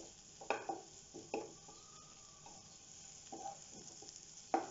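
Curry leaves dropped into hot oil with spices for a sprouts stir fry, sizzling quietly while a spoon scrapes the pan in a few distinct strokes, close and fairly soft.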